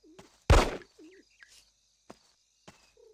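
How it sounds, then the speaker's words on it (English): Pigeons in the Hitman 2: Silent Assassin video game coo in short, scattered calls, with a loud thump or flutter early and faint ticks between calls. "There are so many pigeons, they always regenerate."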